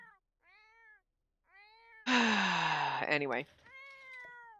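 A cat in The Sims 4 meows repeatedly, several short rising calls and then a longer, loud drawn-out yowl, followed by another meow, with a brief spoken word near the start.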